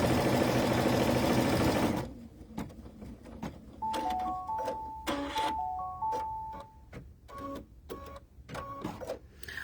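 An embroidery machine stitching a turkey's arms onto stabilizer for a utensil holder: a loud burst of noise, then rapid mechanical stitching chatter with intermittent tonal whirring, close and alone.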